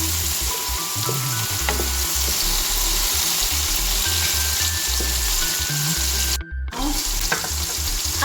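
Plantain and egg fry in a pan, giving a continuous bright sizzle that runs for several seconds, with brief clinks and one short dropout partway through, close by and without talk.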